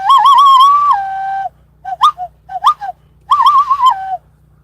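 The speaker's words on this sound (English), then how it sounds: "I learned how to whistle like that" A person whistles a warbling, birdlike call in a few separate phrases: a long trilling run, then short chirps, then another trill, loud and close with quiet gaps between and no talking.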